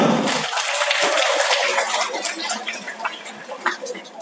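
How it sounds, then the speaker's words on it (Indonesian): Audience applause in an indoor hall, a dense burst of clapping that stays loud for a couple of seconds and then thins into scattered claps and murmurs. "Oke, tepuk tangan dulu."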